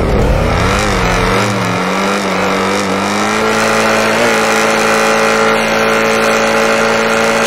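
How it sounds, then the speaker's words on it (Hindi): Loud car engine in Grand Theft Auto 5, droning and revving up in pitch as the vehicle accelerates, close and continuous with no talk. "इन कार से ट्राई करते हैं।"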